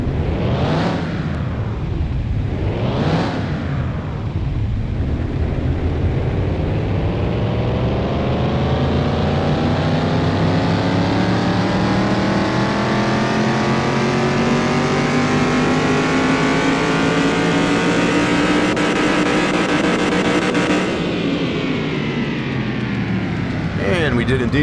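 A car engine in Car Mechanic Simulator 2021 revs on a dyno. It rises in a long, loud climb through the gears to a sustained high-pitched roar, then drops off at the end after two short blips at the start.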